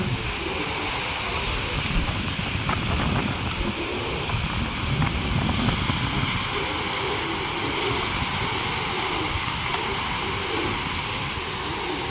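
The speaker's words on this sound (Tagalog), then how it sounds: "yan grabe po yung alon" Strong waves and gusting wind during a typhoon make a continuous loud roar and wash, dense and steady throughout, with no talk.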